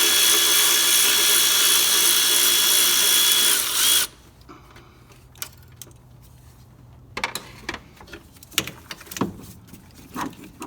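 A power tool with a 10mm socket removes a bracket during starter replacement on a 2004-2015 Nissan Titan, whirring loudly and steadily for about four seconds, then stopping, followed by scattered metallic clicks and clanks of parts being handled.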